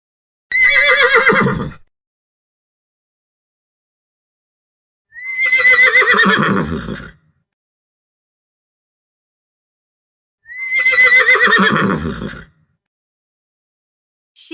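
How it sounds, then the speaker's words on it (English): Three loud, close whinnies from a horse, each shrill neigh lasting a couple of seconds and spaced by silent gaps, with a fourth just starting at the end. "Horse."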